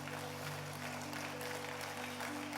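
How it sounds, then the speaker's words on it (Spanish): A church congregation applauds steadily, a dense wash of clapping heard from within the crowd over a low sustained organ or keyboard hum, with no speech. "Dale un aplauso al Señor si puedes"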